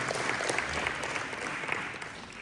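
A crowd at a charity dessert event applauds, a broad, even round of clapping that holds steady at moderate loudness for a couple of seconds.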